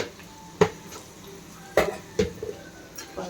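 A spoon stirs turmeric into egg curry in a pan, giving sparse, sharp metallic clinks and taps against the cookware over a quiet background.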